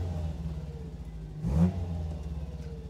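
An MGB GT with a Duratec engine driving, a steady low engine drone that swells into a brief rev in the middle before settling back to a cruising hum.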